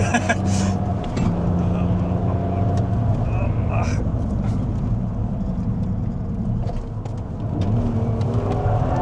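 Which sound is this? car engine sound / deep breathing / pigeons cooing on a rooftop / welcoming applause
car engine sound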